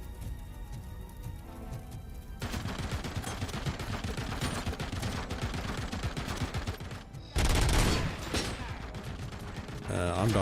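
Rapid automatic gunfire from a recoiling weapon in Robocop: Rogue City, with dense bursts of shots after a quieter opening, a sharper loud blast near the end, and a voice briefly under the firing.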